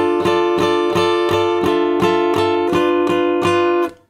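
Acoustic guitar strums the intro chord repeatedly in a steady rhythm of about ten strokes, close and bright, then stops abruptly; no talking.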